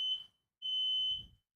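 A fire alarm being inspected emits high shrill electronic tones, one ending at the start and a second sustained blast about a second long after a short silence, loud and with no voices.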